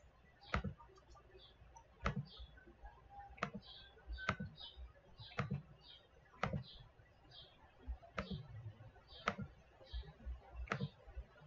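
A computer mouse clicks about ten times at a steady, unhurried pace while someone works in iClone 7 3D animation software. The clicks are sharp, quiet and close, with no talking.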